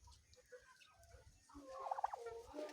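Poultry on an organic farm call out close by, starting with soft scattered clucks and low murmurs, then building into louder, rising gobbling calls toward the end.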